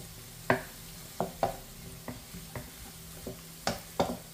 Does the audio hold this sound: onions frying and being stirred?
yes